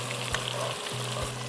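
Chicken frying in a pan in a kitchen, a soft, even sizzle with a low steady hum underneath and a couple of dull thumps, fairly quiet and without talk.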